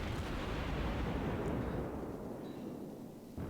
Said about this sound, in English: just keep the guns firing as often as I can